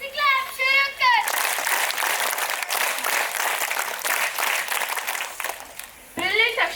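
Audience applause at a Toastmasters club session at Veritas Sainik School in Tirupati, a dense burst of clapping between short stretches of speech at the start and end.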